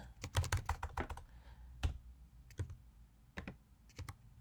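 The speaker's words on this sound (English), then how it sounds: "we need to start by typing in the name" Quick bursts of typing on a computer keyboard, clustered keystrokes at first, then scattered taps with pauses, close and fairly quiet.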